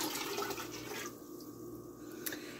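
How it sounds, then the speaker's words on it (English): Eight cups of water pour steadily into a container for pickled coleslaw brine, a continuous close splashing rush with no talk. "we are going to add 8 cups of water"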